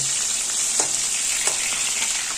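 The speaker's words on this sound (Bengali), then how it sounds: "খুব লাল করে ভাজবো না, দেখুন বড় মাছ তো একটু লাল না ভাজলে ভালো লাগে না খেতে" Fish frying in hot oil in a pan over a gas flame, a steady close, bright sizzle with a few soft pops and stirring scrapes, no voices.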